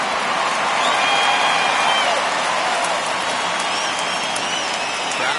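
A baseball stadium crowd at a World Series game between the Braves and Astros roars and cheers steadily in a dense, sustained wash of noise, with faint whistles poking through as the count goes full.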